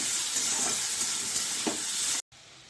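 Steady broadband hiss of a pot steaming mango on the stove, continuous and fairly loud with faint clinks, cutting off abruptly near the end.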